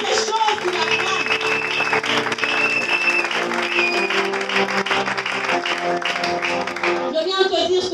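A church congregation applauding during a service, dense continuous clapping mixed with loud voices or singing for the whole stretch.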